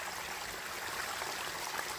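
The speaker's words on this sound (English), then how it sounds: "you're seeing the trail is now literally a little river" Rainwater running down a muddy Appalachian Trail hiking path like a small stream, a steady broadband rush and trickle close by, continuous with no talking.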